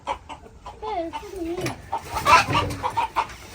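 Chickens clucking close by at a spot where a chicken is being picked out to eat, a string of short, uneven clucks and squawks with people talking nearby.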